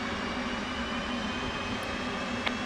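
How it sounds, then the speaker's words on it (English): F/A-18C jet engine spooling up during startup in the DCS World flight simulator, a steady dense whine and roar holding at an even level throughout, with a faint tick near the end. "Okay, so now you can see the temperature rising. My engine is starting."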